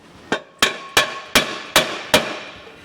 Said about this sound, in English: Soft hammer.